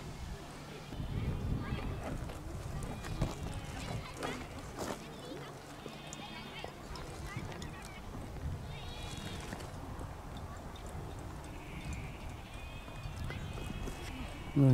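Goats bleat behind a wooden fence at a pleasant campsite, heard as faint, wavering cries several times through the clip. Outdoor background noise, clopping hooves and people's voices run underneath.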